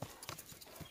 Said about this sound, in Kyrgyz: Өтө жакшы ат экен.